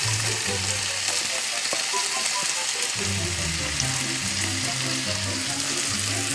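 Morel mushrooms fry in a pan with a steady, bright sizzle that runs unbroken throughout, with faint low tonal hum or background voices and a couple of sharp clinks over the crackle.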